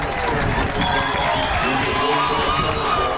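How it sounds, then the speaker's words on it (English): Football crowd at a college game between Golden West and San Diego Mesa roaring steadily, a dense, loud wall of cheering that holds throughout with no break. "And a huge roar from this Olympian crowd."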